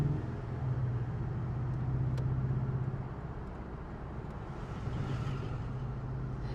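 A Porsche Cayman 718 mid-engined sports car gives a low, steady engine rumble heard from nearby while driving. The tone swells and eases slightly, with no voices.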